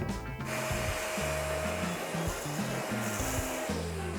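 A Dnipro-M DCS-200BC Dual cordless saw cuts steadily during a stress test, a loud, continuous whirring grind with rough rasping texture that runs unbroken throughout.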